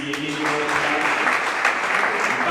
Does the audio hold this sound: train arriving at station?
no